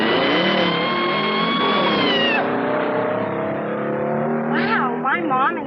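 A car engine revs hard and climbs in pitch during a drag race, loud and close, with a sharp shift in tone midway and a final burst of revving near the end.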